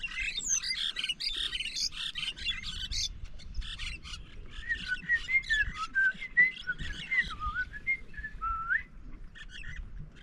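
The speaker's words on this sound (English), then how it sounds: "There's millions of birds, really beautiful sounding birds nesting on this little island." Many birds at an island nesting colony call at once, a dense mix of overlapping whistles, chirps and warbling trills that carries on without a break, with no talk.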